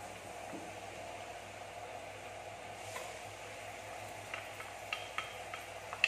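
Garlic frying in a pan for pancit palabok, a low, steady sizzle close by with a few faint clicks and stirring ticks near the end.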